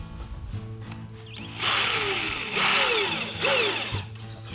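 A power drill drives screws into a downhill dragster assembly built on 2x4 wood, three loud whining bursts that rise and wind down in turn, with a steady low hum and small clicks between them.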